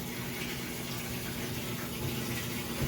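Washing machine draining water during its spin cycle, a low steady gush of water with a faint motor hum beneath, heard at quiet level throughout.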